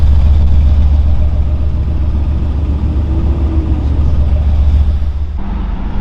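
Several BMW engines, including F80 M3s, idle and rumble close by in a steady, heavy low drone, with a brief rising rev partway through, at a large car meet.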